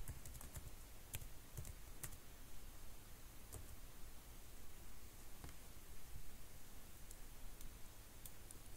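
Someone types localhost on a computer keyboard, a faint, scattered series of quick key clicks over a steady hiss, heard alone.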